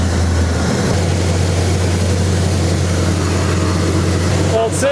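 A long-abandoned 1972 Chevy El Camino garage find idling after being started, a loud, steady low rumble throughout with a voice briefly heard near the end.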